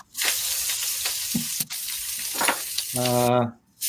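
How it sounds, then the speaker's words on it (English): A stir fry sizzles in a pan with loud hissing bursts and some stirring clatter, broken by brief pauses and a short tonal squeak near the end. "we're going to stir fry, and it's going to be noisy, and I'm not going to be able to hear Franco"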